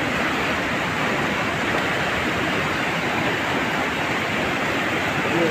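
Floodwater rushes over a road after heavy flooding in Raisen, a steady broadband roar of fast-moving water filling the whole stretch without pause.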